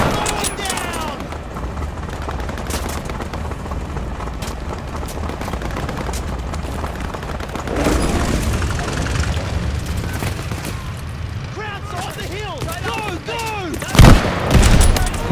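Constant gunfire and explosions in the Call of Duty Vanguard campaign on Veteran difficulty, with dense bursts all the way through, a heavy boom near the end, and game voices shouting over the fighting.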